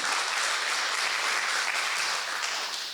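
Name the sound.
audience applause welcoming a speaker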